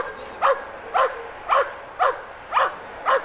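Police dogs bark in a steady run of six sharp woofs about half a second apart, moderately close, with no talking over them.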